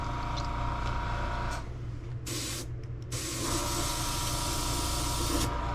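Close, loud airbrush hissing in sustained bursts, cutting out briefly and resuming over a steady mechanical hum; a faulty airbrush that won't spray properly, used to paint fishing lures.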